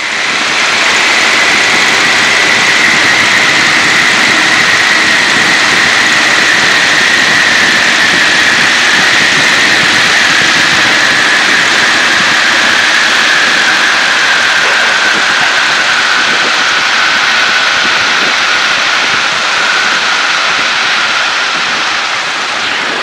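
The piston engines of a Douglas A-26B Invader roar loudly and continuously on a test flight near Chino Airport, California, a dense, steady drone heard from close inside the aircraft with a faint tone slowly falling in pitch.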